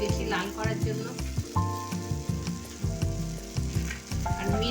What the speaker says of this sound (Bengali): মশলাটা আমি ভালোভাবে কষে নেব